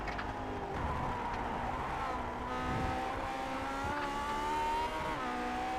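A Lotus 49 race car in the Grand Prix Legends racing game at Daytona International Speedway, heard onboard: a continuous, fairly quiet high engine drone whose pitch climbs and shifts through gear changes.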